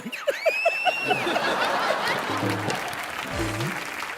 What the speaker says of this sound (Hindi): जोरदार तालियां बप्पीदा के लिए।